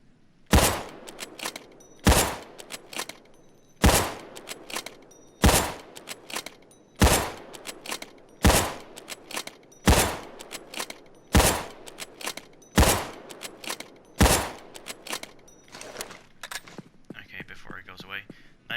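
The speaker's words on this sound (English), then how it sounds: "Actually, I'll fire all of these instead. Going hot." Eleven heavy MSR Rattlesnake sniper rifle shots from Payday 2 ring out one after another, each loud crack spaced about every one and a half seconds by the slow bolt rechamber, with a faint tail after the last.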